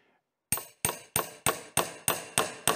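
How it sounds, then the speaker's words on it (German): A hammer strikes a thick nail eight times in a steady rhythm, each blow a sharp, ringing metallic impact that decays quickly, loud and close, after a moment of near silence. "Es braucht einen ordentlichen Hammer, um diesen Nagel reinzuschlagen."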